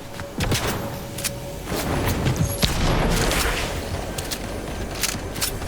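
Sharp bursts of gunfire in Fortnite crack repeatedly over a dense, noisy game soundscape, several shots spread across the clip, loud and close.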